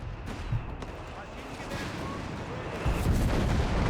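Mortar fire and battle noise in the strategy game Company of Heroes 3, scattered thumps and explosions amid a dense rumbling din, with bursts growing louder near the end.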